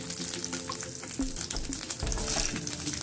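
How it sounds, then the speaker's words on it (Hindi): Garlic cloves are dropped into hot oil where other ingredients are already browned, giving a close, steady sizzle and crackle with a few stirring clinks. "अब मैं इसमें डाल दूंगी ये लहसुन की कुछ कलियां"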